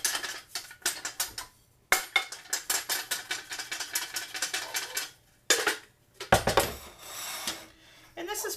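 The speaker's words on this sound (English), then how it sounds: "in my sifter I have flour and a little bit of baking powder. So I'm going to sift that into the butter" Flour and a little baking powder are sifted from a sifter into butter in a bowl for pie crust: rapid, close rattling clicks come in several bursts separated by short pauses.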